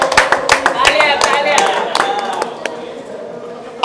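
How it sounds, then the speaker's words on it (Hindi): An audience at an award ceremony for the Netaji Subhash Chandra Bose Noble Peace Award claps together, steady dense applause that is close and loud and tapers slightly toward the end. "सबसे पहले बॉलीवुड अड्डा दलवंदर के लिए एक बार तालियां हो जाए"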